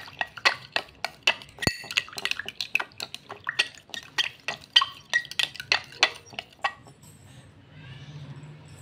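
Liquids being stirred and mixed in a small container for a dishwashing liquid versus Vim bar demo: a quick series of sharp clinks and taps of a utensil against the vessel, ending in a soft swirl.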